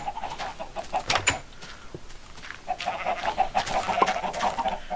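A crowd of chickens clucks in the Minecraft video game, repeated short clucks overlapping in a busy, continuous chorus with brief pauses, fairly close and clear.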